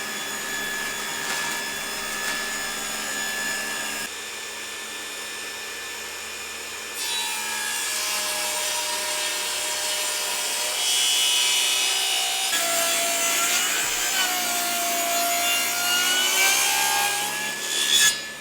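A table saw with its blade tilted to 10 degrees is raised up through a clamped scrap of MDF, giving a loud sustained whine and cutting rasp that shifts in pitch as the blade climbs, with no talking.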